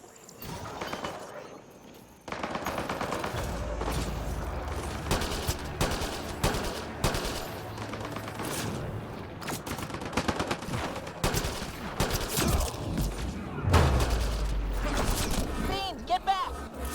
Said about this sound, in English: Turn those turrets on Merryweather's men.